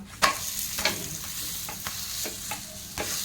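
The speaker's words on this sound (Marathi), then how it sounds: "आता आपण पलटी करून घेऊया।" Dahi dhapate flatbread frying on a hot pan as it is flipped, a soft steady sizzle broken by several sharp scraping clicks of the turner at uneven intervals.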